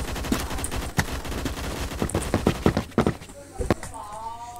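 Rapid AK12 rifle fire in the Roblox shooter Phantom Forces, bursts of sharp crackling shots in quick rhythm mixed with other game gunfire, loud and close throughout.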